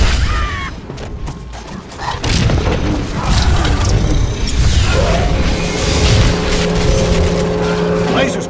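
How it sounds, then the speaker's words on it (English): Gun battery firing in SWTOR player-versus-player warzone combat: loud booming blasts and crashing impacts over a dense, continuous game soundscape, with a steady mechanical drone in the second half and an announcer voice mixed in. "You're taking fire. Gun battery firing."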